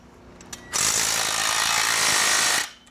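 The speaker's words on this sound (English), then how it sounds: "Take your open end wrench up over underneath the top." Metal hardware being tightened with an open-end wrench on the bolts of a 421L comfort swing assembly, a loud continuous rasping, ratcheting burst of about two seconds that starts and stops abruptly, with no talking.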